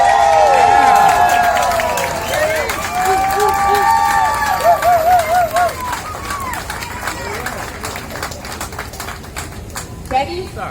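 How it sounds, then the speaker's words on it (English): An outdoor crowd at a Hollywood Walk of Fame star ceremony for Teddy Riley cheers and whoops with scattered clapping, loudest at first and then tapering into sparser claps and chatter. "Let's give him a big round of applause."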